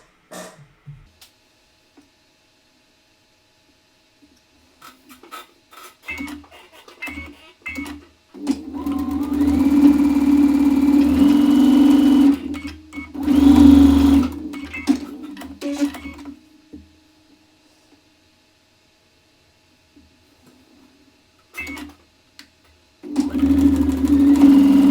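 A sewing machine stitches quilt rows together for a grandmother's square block, running in loud, close bursts of rapid mechanical whirring, separated by quiet pauses and softer handling noises.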